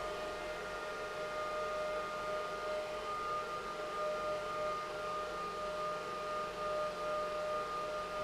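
A Goldshell KD5 crypto mining machine runs about two feet away with a continuous whine of steady high tones over a rushing fan noise, unchanging and fairly loud.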